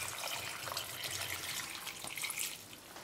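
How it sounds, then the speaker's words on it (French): Water pours steadily into a soup pot for leek and potato soup, a continuous splashing stream filling it up close, with no talking. "je vais mettre mes 2 litres d'eau."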